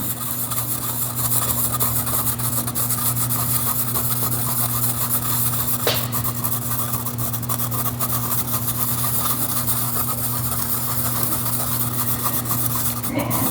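Red iron oxide mason stain is grated onto clay for pottery monoprinting, making a continuous close scraping and rasping texture with a brief sharper scratch partway through, with no voices.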